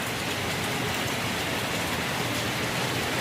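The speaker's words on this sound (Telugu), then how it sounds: "న్యూ ఇయర్ ఫస్ట్ డే ఎంత చెన్నైలో వర్షమో చూడండి." Heavy rain falls in Chennai on New Year's Day, a dense, loud, unbroken hiss of downpour on surfaces that holds steady from start to finish with no voices.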